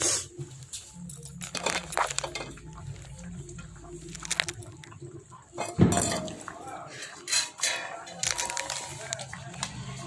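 A spoon stirs coriander leaves into a simmering fish curry in a pan, giving repeated close clinks and scrapes against the metal, with a voice heard at times underneath.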